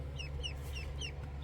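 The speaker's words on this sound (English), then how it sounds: "2 white ducks and 2 golden chickens and 2 silver chickens" Golden and silver chickens kept with white ducks cluck in short, repeated high chirpy notes, fairly quiet over a steady low hum.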